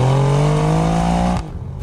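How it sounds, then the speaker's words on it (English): Alfa Romeo Giulia Quadrifoglio engine heard on the road, a loud steady drone with rising pitch under acceleration that cuts off sharply near the end, leaving quieter road noise. "Oh, I hate following Paul, his engine all sounds exciting."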